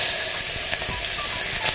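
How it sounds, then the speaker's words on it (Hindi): Cumin seeds sizzle in hot oil in a pan, a loud, dense, steady crackle and hiss lasting a brief moment, with a faint clink or two and no talking. "ये गर्म हो चुकी है, मैं यहाँ पर जीरा डाल रही हूँ"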